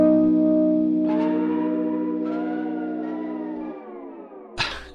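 A TE TapeEcho MkII tape echo delay effect processes a held synth chord, throwing out repeating echoes that warble and slide in pitch as the tone decays, ending with a sudden burst of noise.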